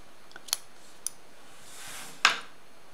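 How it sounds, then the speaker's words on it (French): A few crisp snips of scissors cutting through crochet yarn, close and quiet, separated by pauses with one sharper cut near the end. "là on peut couper le fil"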